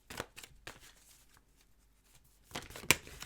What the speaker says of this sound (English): Ooh, that was such a weird shuffle